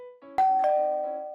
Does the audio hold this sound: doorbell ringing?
yes